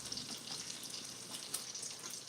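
Bacon sizzles and crackles in a pan while being stirred, a soft, steady frying hiss with scattered pops and light scraping.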